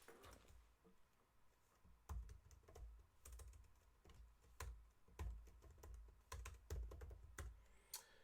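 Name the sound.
typing on a new computer keyboard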